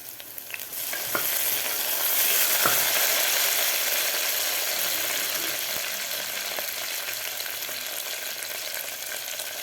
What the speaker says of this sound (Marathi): आपलं कांदा मिरची आणि शेंगदाणे व्यवस्थित फ्राय झालेले आहेत